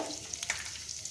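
Chopped onions sizzle in hot oil over tempered chana dal, urad dal, cumin and mustard seeds for a poori curry, a soft steady frying hiss with a few light stirring clicks, fairly quiet.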